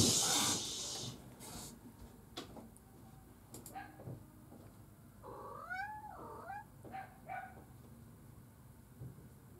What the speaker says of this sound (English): Where's my little kitty getting picked on?